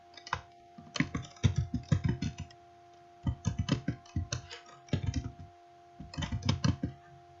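Bursts of keyboard typing in quick clicking runs separated by short pauses, close and fairly quiet, with a steady electrical hum underneath and no talking.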